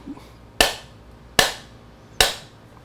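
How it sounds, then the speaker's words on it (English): A mallet strikes a Yamaha R3 engine case cover part three times, each blow a sharp, close knock that rings out and fades before the next comes at an even, deliberate pace. "I always get nervous when you have to use a mallet."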